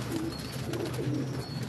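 Old Ludhiana-breed pigeons coo together on a rooftop, low throaty calls rising and falling steadily over nearly two seconds, close and moderately loud, with no talk.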